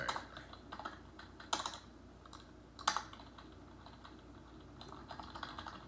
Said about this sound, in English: I might type in hard.